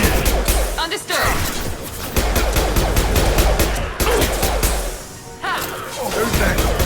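A loud firefight in Mass Effect 2, with dense rapid bursts of automatic gunfire and sharp impacts running almost continuously, broken by a couple of brief lulls, while voices talk over the shooting.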